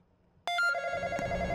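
A phone ringing in the Roblox game, a bright electronic ringtone that starts abruptly after a short silence and repeats in even pulses, loud and clear with no voices over it.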